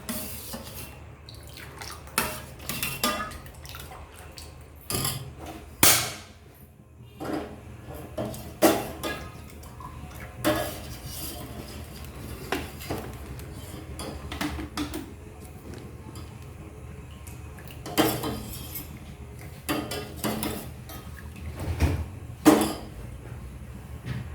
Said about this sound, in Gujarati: હલાવીને ગરમ કરીશું